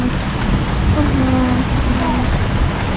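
Heavy rain pouring steadily during a storm in Central New York, a dense continuous hiss of drops with a faint voice briefly heard beneath it.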